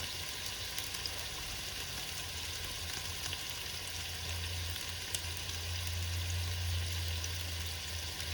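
Pork cutlets frying in a pan, a steady hissing sizzle that swells slightly partway through, close and even, with a low background hum and no voices.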